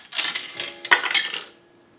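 A quarter drops through a Northern Electric three-slot payphone, rattling metallically before the coin gong strikes once with a short ringing tone that quickly fades, close and fairly loud.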